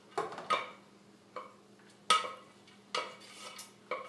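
Whole wheat pasta being tossed into tomato sauce in a pan gives several separate clanks and scrapes of a utensil against the pan, close and moderately loud, with a faint hum between them.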